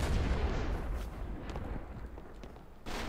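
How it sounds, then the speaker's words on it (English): Ship cannons fire in the pirate video game Blazing Sails: a heavy booming blast at the start rolls into a long rumbling decay, then another boom hits near the end. "Fire the left cannons."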